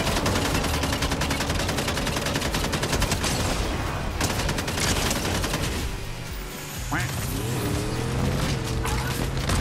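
Heavy combat shotgun fire in Fortnite, rapid blasts hammering almost continuously over a loud roar of game noise, with a brief lull before the shooting resumes.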